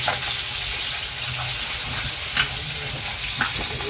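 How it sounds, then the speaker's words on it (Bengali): Oil sizzles in a hot kadai heated for cooking a curry, a loud continuous frying hiss with a few faint clinks and stirring sounds mixed in. "কড়াই গরম হয়ে গেছে, প্রথমে তেল দিয়ে দিলাম।"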